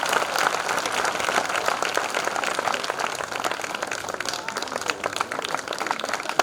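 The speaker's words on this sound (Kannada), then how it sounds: "ಚಂದ ಜೋರಾಗಿ ಚಪ್ಪಾಳೆ ತಟ್ರಿ." An audience at a spiritual discourse in Danapur village breaks into steady, dense clapping that holds at an even, fairly loud level for the whole stretch, with no talking over it.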